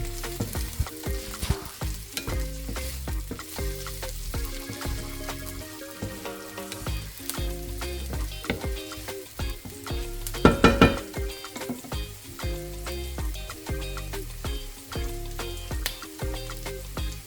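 Onions sauté in a pan for fried rice with a continuous sizzle, and a utensil stirs them in frequent scrapes and clinks, including a brief louder clatter midway.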